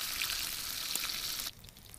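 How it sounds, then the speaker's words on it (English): Bacon frying in a pan at a campsite gives a dense, close sizzle for about a second and a half, then drops abruptly to a fainter crackle. "while the bacon's been cooking"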